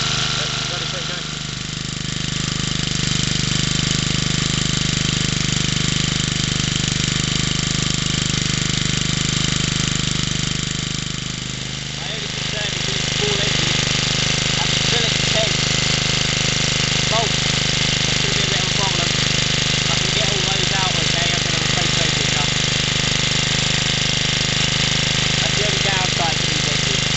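A 50cc BSA Field Charger small engine runs at a steady idle close by, a continuous buzzing drone with a brief dip partway through before settling back to an even note.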